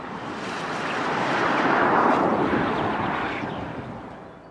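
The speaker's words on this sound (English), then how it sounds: "Once the plane has passed by, about 10 to 20 seconds later, the sound effect of the vortices reaches you" A broad, rushing whoosh of aircraft wingtip vortices swells slowly and fades, arriving 10 to 20 seconds after a plane passes overhead, with no voices.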